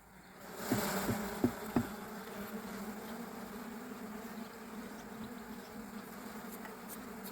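Dense, steady buzzing of many honey bees close by at a full hive in August, with a few louder passes of individual bees early on.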